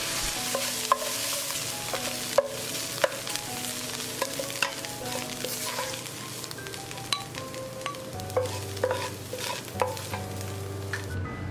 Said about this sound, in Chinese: 菇类的部分，通常我们都要煎过或炒过，它的香气才可以出来。